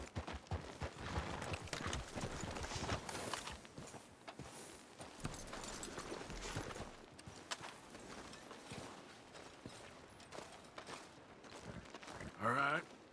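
Faint horse hooves clip-clop at a walking pace under quiet video game ambience, with voices speaking at times.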